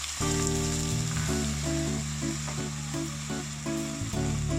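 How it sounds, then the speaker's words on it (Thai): Steady sizzling of curry paste frying in a hot wok, a continuous crackling hiss with a persistent tonal hum underneath, close and fairly loud. "คนพริกแกงให้ทั่วกระทะเลยนะครับ"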